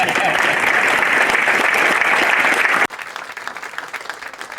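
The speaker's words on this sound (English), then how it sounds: "you can give them applause" A crowd claps loudly and steadily for the cadet training cadre at a Cadet Summer Training graduation, 5th Regiment Basic Camp, then cuts abruptly to a quieter stretch of scattered clapping.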